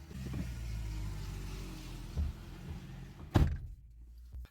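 A car arrives outside on a trip from Berlin to Sicily, its engine rumbling low and steady as it pulls up, followed by a sharp thud near the end that could be a door, with no talking.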